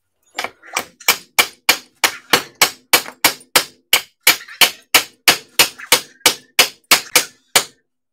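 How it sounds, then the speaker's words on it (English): A body hammer strikes an RC car body in about twenty sharp, evenly spaced metallic blows, loud and close, with no talking. "I'm basically just going to body hammer that over."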